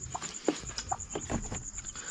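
A few soft, scattered clucks from a brooding mother hen with newly hatched chicks, quiet and close, spaced irregularly over a faint steady background hum.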